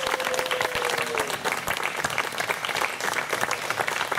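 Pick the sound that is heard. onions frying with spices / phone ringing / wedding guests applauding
wedding guests applauding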